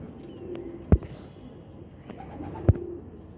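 Pigeons kept by a fancier cooing, two short low coos spaced about two seconds apart over a quiet background hum.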